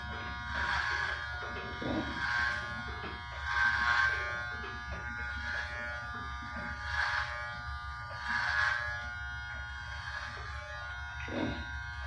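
Electric hair trimmers buzz steadily while cutting a bald head at home, rising and falling in repeated strokes every couple of seconds as the clippers pass close over the scalp.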